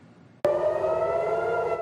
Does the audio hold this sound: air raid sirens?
yes